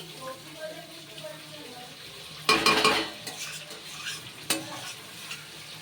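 Fish fat frying in a pan over a high gas flame, a constant sizzle broken by loud spatula stirs and scrapes against the pan, one burst longer and louder than the rest.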